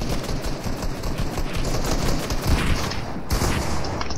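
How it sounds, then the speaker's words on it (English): Dense, rapid gunfire fills the Fortnite match, loud and continuous, with overlapping shots like a sustained fusillade and a brief break near the end. "Somebody's shooting me."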